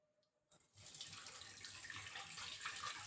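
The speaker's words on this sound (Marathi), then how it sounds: "आपण पाणी टाकून घेऊ" Water is poured into a pot in a home kitchen while cooking, starting after a brief quiet moment as a steady, close splashing gush that grows slightly louder, with no talking.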